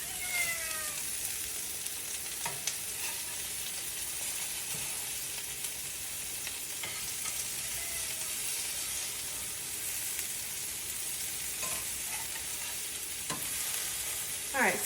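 Greek-style meatballs, some made from lean venison, fry in a pan with a constant soft sizzle and hiss, broken by an occasional stir or utensil clink, with no talking.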